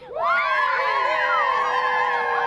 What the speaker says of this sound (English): the crowd was excited to be back at the parade once again this year